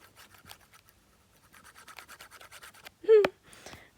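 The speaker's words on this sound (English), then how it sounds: "I think I forgot to rub that out." An eraser rubs out writing on paper in a run of quick, scratchy back-and-forth strokes, close and fairly quiet, ending with a brief louder scrape.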